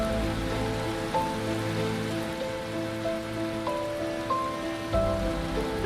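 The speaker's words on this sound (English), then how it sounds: "No sign of this rain stopping." Rain in a racing simulator broadcast of a GR86 race at Oschersleben: steady hissing rainfall on a surface, continuous under a faint tonal hum, with no talk.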